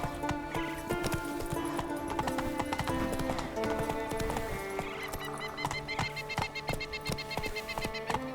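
Hooves of the horse Roach in The Witcher 3 clatter in a fast, steady galloping rhythm, close and loud, over a busy layer of game music and ambient sound.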